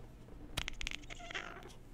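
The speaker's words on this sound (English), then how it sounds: "Want to meow at the microphone?" A house cat meows near the microphone, a short cluster of nasal cries over faint room noise.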